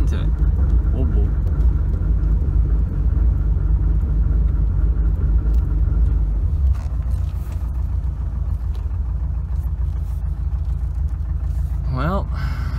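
Subaru Impreza GC8 engine runs roughly after a failed dyno tune, a loud, uneven low rumble with stumbling idle that continues throughout, close by, with a person talking over it.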